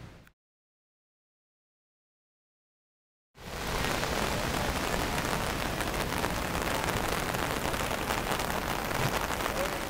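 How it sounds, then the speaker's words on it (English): Heavy rain pours onto a beach on a film set in Australia, a loud, dense, continuous hiss that bursts in after a short stretch of silence and then stays steady. "Well, it's raining quite heavily here."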